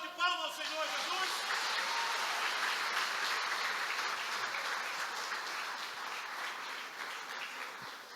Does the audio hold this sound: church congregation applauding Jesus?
yes